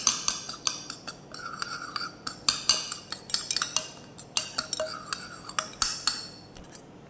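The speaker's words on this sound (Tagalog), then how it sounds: "Mix lang natin guys ang ating sauce." A utensil stirs sauce for a rocket and beetroot salad, producing repeated light metallic clinks and scrapes against the dish in an irregular rhythm, close by and without talk.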